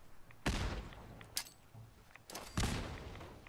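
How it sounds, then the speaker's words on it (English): Two frag grenades go off in Fallout 4 during a fight with feral ghouls. Each is a loud, sharp blast with a rumbling tail, the second larger than the first, with lighter gunfire-like cracks between them. "Behold the power of the frag grenade."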